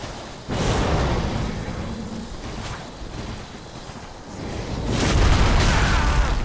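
A dragon-summoning weapon art attack from a Sunlight Blade–buffed Karthus Curved Sword in Dark Souls 3, landing as a loud sudden boom followed by a sustained roaring rumble that swells again near the end.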